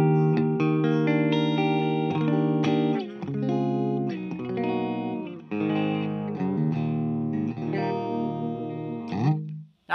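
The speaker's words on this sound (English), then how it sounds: "And I love the chiminess of the middle position." A Gibson Les Paul Standard '60s electric guitar on its middle pickup position plays a clean, chimey run of chords and arpeggiated notes, close and steady for about ten seconds, ending with a short pick scrape.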